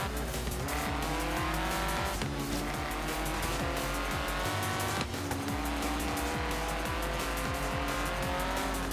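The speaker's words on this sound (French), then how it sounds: "prendre le virage un peu trop vite" Race car in the Forza Horizon video game taking a corner too fast, with a loud continuous engine roar and long squealing tires sliding through the turn, with no talking.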